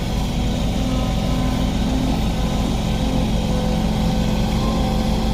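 A Sumitomo SH130F-6 13.5-ton excavator with a four-cylinder turbocharged common-rail diesel runs at a steady, loud, even drone close by, with no pauses or talking.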